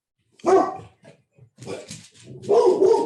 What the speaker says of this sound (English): that was my dog, Plato, like the philosopher.